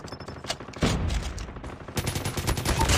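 Sustained light machine gun bursts in the mobile shooter Call of Duty: Mobile, RPD or PKM, rattle loud and close in rapid, continuous volleys that pause briefly before starting again.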